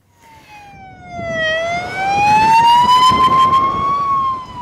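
A loud fire engine siren wails alone in a steady rising and falling sweep, heading out to a blaze in dry grass and shrubs at a holiday-home area near a village outside Burgas.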